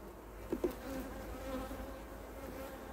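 Honeybees hum steadily inside a hive colony with few drones, a close, continuous buzz with a couple of brief louder bumps near the start.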